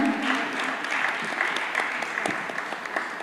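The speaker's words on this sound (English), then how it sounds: "Big round of applause." Audience applause fills a conference hall at an energy technology meeting, a steady wash of many clapping hands at moderate level that holds for the whole stretch.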